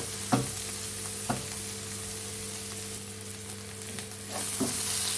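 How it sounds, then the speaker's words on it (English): Spices fry in a non-stick pan under an even, steady sizzle, and a few sharp taps and scrapes of a spoon mark the stirring. The sound is close and no one speaks. "I don't want the spices to burn. So just carry on mixing it for about 5 minutes"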